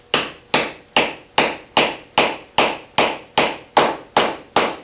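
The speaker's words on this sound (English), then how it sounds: "And then you're just beating it until it bottoms out." Hammer blows drive a bearing race into place with a Harbor Freight Madox bearing and race install tool, a dozen sharp metallic strikes in a steady, even rhythm, loud and close with no talk.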